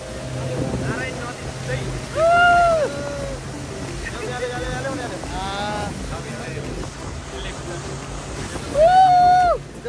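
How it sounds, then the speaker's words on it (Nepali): A raft moves along a river in Chitwan, Nepal, with rushing water and wind noise running throughout, while several people talk and shout excitedly over it. "ऱ्याफ्टिङ चाहिँ फर्स्ट टाइम हो अब अनुभव लिँदैछौँ अब गुड्यो"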